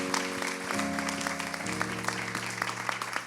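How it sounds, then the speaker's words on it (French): Quiet applause from an audience patters steadily beneath sustained musical tones, continuous and fairly distant throughout. "Est-ce qu'on peut applaudir pour vous?"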